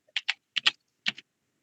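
Keys on a computer keyboard tapped in a short, uneven burst of about six close, crisp clicks, then quiet.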